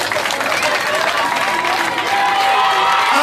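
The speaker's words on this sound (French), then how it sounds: "Applaudissez pour le monsieur Rewan." Applause from a party audience fills the room with dense, continuous clapping that rises slightly toward the end, and voices can be heard underneath.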